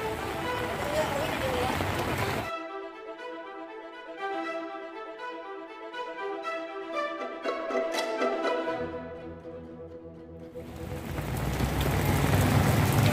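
Heavy rain falls on the village of Kampung Cibayur, Desa Ciherang, as a dense steady hiss at the start and end, broken in the middle by a stretch of music, with someone talking.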